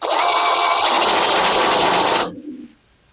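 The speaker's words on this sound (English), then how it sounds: "this is a guide for drilling the hole" A power drill bores into the steel frame of a 1976 Jeep CJ-5, a loud, close, steady whine lasting about two seconds before it abruptly stops and winds down.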